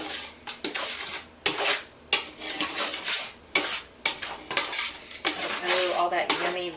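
Roasted onions and carrots are tipped and scraped into a stock pot with celery, making a series of sharp metallic clanks and utensil scrapes against the pot, fairly close and loud, with no talking.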